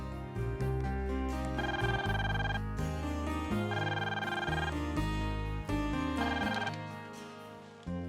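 A telephone rings in repeated bursts over a loud, steady musical score, with no voices.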